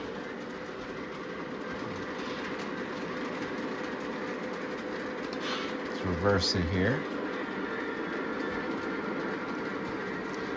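A model train runs along its track with a steady, close rattling rumble, and a voice speaks briefly partway through.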